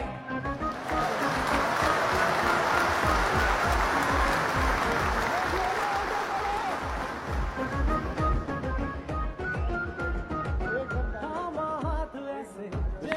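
Full, sustained applause from a large convention crowd welcoming Rehan Zeb, roaring for several seconds before gradually thinning into scattered claps with voices rising underneath.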